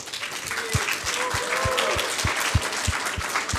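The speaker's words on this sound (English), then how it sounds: "Can I have more applause for our startups?" Audience applause at a startup accelerator event, sustained dense clapping from a crowd with a steady low thumping beat underneath, loud and continuous throughout.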